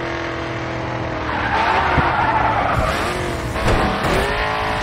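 A race car in the driving game Grid 2 slides through a turn, its engine roaring steadily with squealing tires as the back end drifts, loud and continuous.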